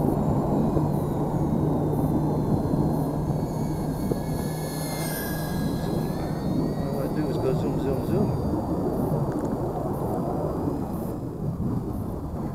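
An Eachine Trashcan 75mm FPV whoop racer drone flies with a continuous high, buzzing motor whine that shifts in pitch, layered over a steady loud rushing roar for the whole stretch.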